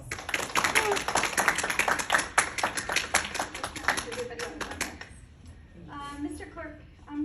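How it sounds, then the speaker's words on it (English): Gallery applause in a courtroom at a bar call ceremony, a few people clapping close by in a brisk, uneven patter that fades out after about five seconds, leaving quiet room sound and faint movement. "this is worth a round of sincere applause"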